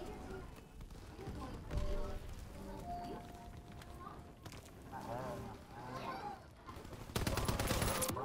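Gunfire in the Call of Duty WWII video game, scattered shots and short bursts mixed with footsteps and game noise, ending in a louder sustained volley, with a player talking over it.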